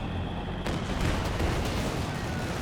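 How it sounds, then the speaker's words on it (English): Artillery barrage in Company of Heroes 2, a dense rumbling wash of shell blasts and gunfire that swells after a short moment and keeps pounding without a break. "Oh, we got a time barrage."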